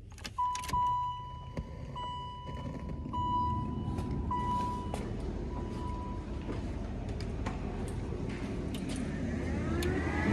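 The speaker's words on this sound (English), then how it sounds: "So once you turn the key on, bam, start the car up, hit your AC on" A 1989 Chevy Caprice with an LS engine swap idles steadily after starting, a continuous engine rumble with a faint chime and some clicks early on, rising blower or fan noise near the end, no talking.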